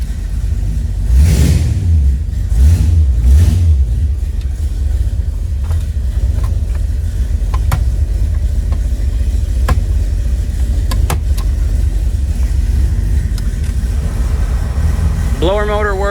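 A 1940 Chevrolet Sedan Delivery with a small-block 350 V8 runs steadily, a loud, close, low rumble with a few revs early on, continuing without speech.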